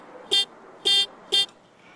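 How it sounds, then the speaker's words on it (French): Three short, loud toots from a cheap 3-euro horn fitted to an electric bike, sounding about half a second apart with a steady hum between them and no voices. "Désormais, appuyez sur le bouton actionnera le klaxon."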